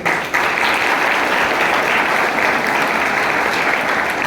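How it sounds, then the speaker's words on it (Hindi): Loud applause from an audience at a school police awareness session, dense continuous clapping erupting abruptly after a brief pause and holding steady. "एक बार ताली बजाओ इस वीडियो के लिए।"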